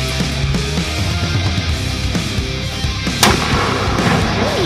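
A gun fired at toy Furbies outdoors in Squamish Valley: a dense, loud noisy wash with one sharp crack standing out near the end, no clear speech.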